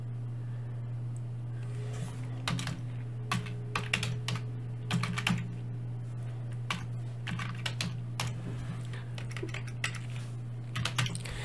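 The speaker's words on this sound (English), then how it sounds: "Excuse me, my typing." Typing on a computer keyboard, close and fairly quiet, with irregular bursts of clicking keystrokes separated by short pauses, over a steady low electrical hum and no talking.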